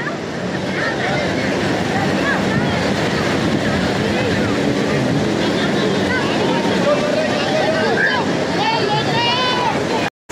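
A jet ski rides on the sea at Juhu Beach in Mumbai, a steady loud engine drone mixed with rushing wind and surf, continuous until it cuts off abruptly at the end.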